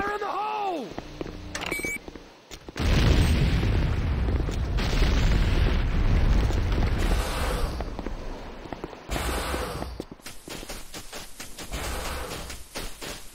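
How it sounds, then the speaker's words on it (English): A C4 charge detonates inside the Renegade video game, a deep, loud boom that rolls on for several seconds, followed by crackling debris and a second, quieter burst of clatter. "C4 is set. Fire in the hole!"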